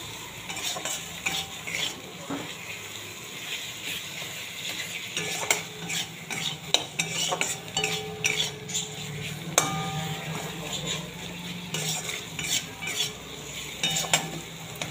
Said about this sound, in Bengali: টমেটোটা একটু মশলাটার সাথে ভাজা হোক।